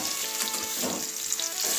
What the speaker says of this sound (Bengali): ভাজা হয়ে গেছে, তাও উল্টিয়ে দিচ্ছি।